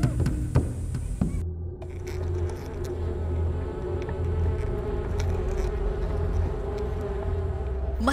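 Bees swarm around a beehive with a continuous, close, droning buzz, joined by a few sharp knocks early on and a faint low rumble underneath.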